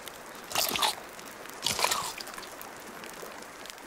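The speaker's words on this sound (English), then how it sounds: "Let's eat this fish." Two close, crunchy and wet bites of a fish being eaten in the video game Sons of the Forest, about a second apart, then quiet room tone.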